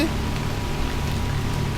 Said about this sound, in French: Tout ce que je pouvais entendre était le son de la pluie.